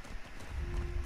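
Horse hooves clip-clopping during horseback riding in the video game The Last of Us Part II, a muffled rhythmic thudding under a low rumbling background, brief and moderately loud.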